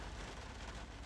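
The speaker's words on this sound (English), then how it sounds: "pardon the rain because it's getting stronger" Steady rain falling outdoors and growing stronger, a constant faint hiss spread evenly throughout with no voices.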